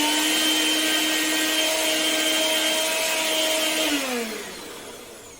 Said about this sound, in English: I'm going to grind these up into like a flour, and this is going to help our cookies to hold together